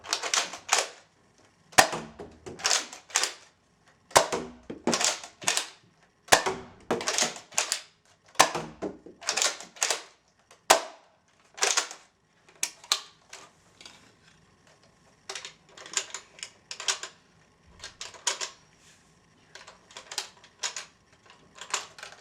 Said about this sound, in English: Shooting standard Nerf rival rounds.